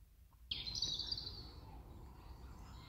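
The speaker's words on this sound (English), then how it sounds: "Can you hear the birds?" A single bright bird song, clear and fairly near, rings out after a moment of quiet and trails off, with a faint low rumble underneath.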